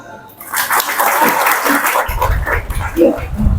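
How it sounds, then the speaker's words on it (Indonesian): An audience at a mosque gathering claps after a religious talk, with steady, moderately loud clapping mixed with crowd noise and some voices. "Tepuk tangan."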